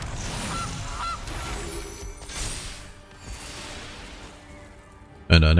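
Goose honks from the Gilded Goose card in the Magic: The Gathering digital card game: a couple of short nasal honks early on, then game mechanism clicks and effects, ending in a loud burst.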